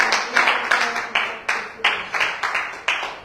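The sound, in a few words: congregation applauding in church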